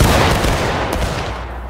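A massed rifle volley rings out in the War of Brothers video game. It is a loud, rolling crackle of many overlapping shots, close by and lasting under two seconds.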